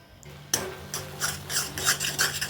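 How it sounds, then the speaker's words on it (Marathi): Chutney ingredients for a bheja-style chutney being mashed into a smooth paste, giving a close, rough scraping and rubbing sound that starts abruptly and repeats in uneven strokes. "त्याला चांगलं असं मॅश करून घ्यायचं, एकजीव करून घ्यायचा."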